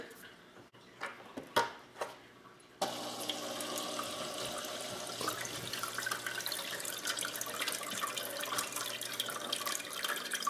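An iDoo hydroponic garden pump circulates water, making a steady continuous bubbling and trickling wash that starts after a few seconds and holds evenly near the listener, preceded by a few scattered knocks and drips.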